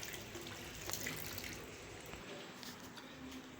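Water running from a newly installed wash basin tap into the sink, a steady close splashing flow that lasts throughout with little variation.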